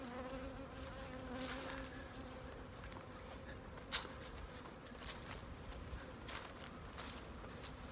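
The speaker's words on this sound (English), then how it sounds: "This is springtime feeling of bee flight." A steady buzzing drone of many honeybees flying around a yard in spring, continuous and moderately loud, with a brief thump partway through and no voices.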